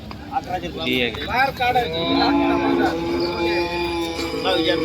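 Cows moo at a crowded cattle market in Chalisgaon, with several drawn-out, fairly loud calls rising over the busy background while people talk throughout.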